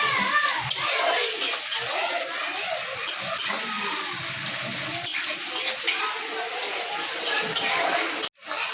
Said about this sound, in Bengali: পেঁয়াজটা তেলের মধ্যে দিয়ে একটু ভালো করে নাড়িয়ে দেখো পেঁয়াজটা অর্ধেক কিন্তু ভাজা হয়ে গেছে